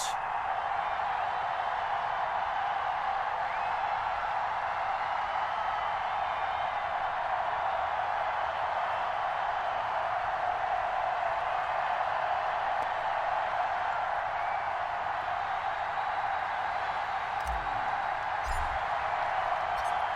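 A sold-out stadium crowd in Madden NFL 21, a Bills home game in Buffalo, forms a dense, steady roar of cheering that holds at one level throughout, broad and continuous, with faint thumps near the end.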